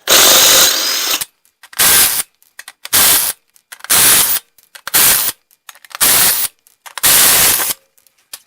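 Impact wrench or drill running in seven or eight loud, close bursts of about half a second each, separated by short silences, while removing a tire from a 2005 Dodge Ram pickup with a 5.9 Cummins engine.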